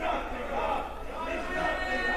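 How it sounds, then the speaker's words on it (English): Wrestling arena crowd at an American Wrestling Association match, a dense, continuous roar of many voices with shouting and jeering, steady and loud throughout. "And the crowd is livid here"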